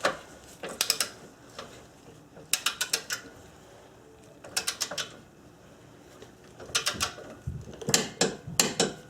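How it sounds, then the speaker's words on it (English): Hand ratchet tightening a castle nut on a Subaru ball joint: three bursts of rapid, close clicking separated by pauses, each burst a quick run of sharp ticks. "Now we'll install the castle nut and wrap it up with the cotter pin."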